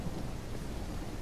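Steady rain with a low thunder rumble, loud and continuous throughout, recorded outdoors in a village setting with no talking.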